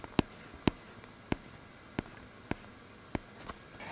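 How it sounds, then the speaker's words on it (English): A stylus taps and scratches on an iPad with a Paperlike screen protector in short, evenly spaced strokes, seven or eight crisp ticks close up with quiet between. "writing on the Paperlike screen protector is like writing on paper"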